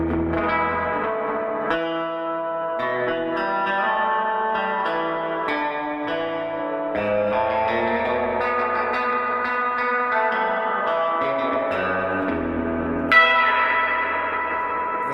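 An electric guitar played through a Sweet Blackberry amp rings out in sustained, picked chords and notes with heavy spring reverb, each pick attack splashing into a washy, echoing tail that continues steadily.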